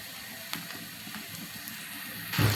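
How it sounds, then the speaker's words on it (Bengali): Spice paste with small khoiri fish being sautéed and stirred in a pan, a soft, steady sizzle with occasional scraping clicks and a louder burst near the end. "এখন আমি একটু ভালোভাবে এটাকে কষিয়ে নেব।"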